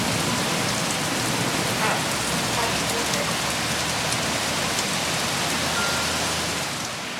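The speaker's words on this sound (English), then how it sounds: "So far, it's nothing more than a little summer rainstorm." Steady summer rainstorm heard from a weatherdeck in West Virginia, a dense, loud, constant hiss of rain falling on surfaces nearby, with no talking.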